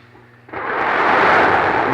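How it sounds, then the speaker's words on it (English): The main engines of Space Shuttle Endeavour ignite at launch on mission STS-47, a sudden swell of deep, broad roaring rumble that rises within half a second and keeps building loud and steady. "We have main engine start."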